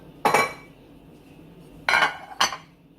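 A casserole dish is lifted and set down on a kitchen counter, giving one clattering knock followed later by two more close, quick clunks of ceramic against the surface.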